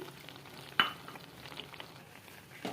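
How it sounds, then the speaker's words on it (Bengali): Semolina halwa being stirred in a pan with milk, cashews, raisins and sugar: a faint continuous sizzle with soft scraping and one sharper knock of the spoon, close and quiet, with no talk. "এবার সবগুলো ভালো করে একটু শুকনো করে নেড়ে নিচ্ছি"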